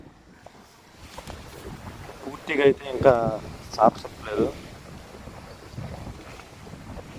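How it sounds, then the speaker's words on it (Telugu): Storm winds from Cyclone Montha blow across a paddy field, a steady buffeting rush on the microphone beneath someone speaking nearby. "ఇంకా కూడా గాలి మోడరేట్గా మధ్యస్థంగా గాలి తుఫాన్ గాలి వేస్తుంది"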